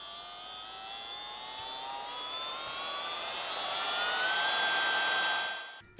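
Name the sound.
battery powered keyboard vacuum running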